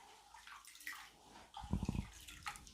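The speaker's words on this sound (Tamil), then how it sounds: "நல்லா இப்படி பிசைஞ்சு விட்டு கழுவுனோம்னா அரிசியெல்லாம் அழுக்கு இருந்தாலும் போயிடும்." Rice is washed by hand in a vessel of water, rubbed and swished, giving faint sloshing and gurgling that grows into louder splashing bursts toward the end.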